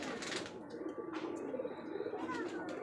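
Rajshahi giribaj pigeons at a large pigeon farm coo in soft, steady rolling phrases, with a few faint chirps from other birds overhead.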